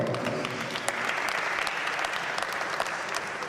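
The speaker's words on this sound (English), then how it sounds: "Another round of applause." Sustained audience applause at a conference inauguration event, a dense even wash of many hands clapping throughout with a few sharper claps standing out.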